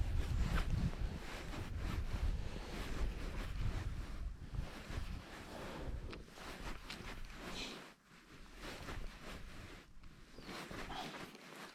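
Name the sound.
wind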